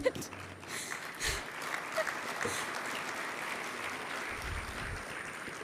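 Audience applause at the Rwanda FinScope 2024 report launch: a steady, moderately loud spread of clapping from a seated crowd that runs through the whole stretch with little change in intensity.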